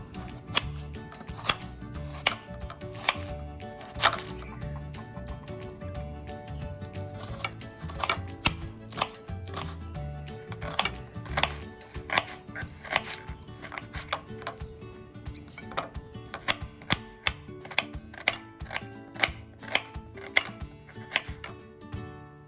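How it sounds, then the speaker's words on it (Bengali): A knife finely chopping onion on a board makes a long run of quiet, quick taps in an uneven rhythm, close by and with no talking. "প্রথমে আমি পেঁয়াজটাকে ছোট ছোট করে কুচি করে নেব"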